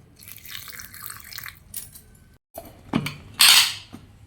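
Water splashes and trickles into a mixer grinder jar in a couple of short bursts, the second louder and closer, with faint clatter before.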